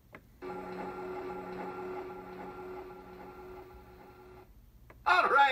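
A Star Wars Vintage Collection Millennium Falcon toy plays an electronic sound effect, a steady tonal hum with a ticking pulse that lasts about four seconds. A short, louder burst of sound follows at the end.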